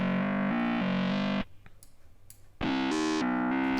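Buzzy, distorted tones from an Arturia ARP 2600-V software synthesizer with a flattened filter sweep, cutting out for about a second of near-silence before the loud, harmonically rich sound returns.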